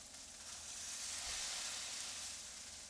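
A salmon fillet fries in a hot pan, giving off a steady, close sizzle with a broad hiss that swells slightly in the middle and holds without a break.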